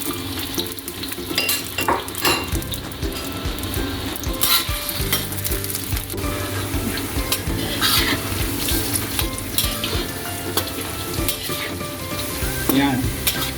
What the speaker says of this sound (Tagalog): Iprito muna natin ang patatas at carrots para medyo luto na siya.